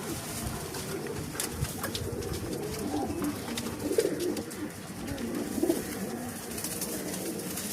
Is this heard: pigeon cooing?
yes